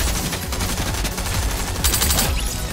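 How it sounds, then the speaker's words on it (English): Dense, continuous gunfire from a Fortnite match, with sniper rifle shots mixed into loud, overlapping bursts that carry steadily through the whole stretch without pause. "Honestly, I hit him a lot more times with the sniper than I thought I would."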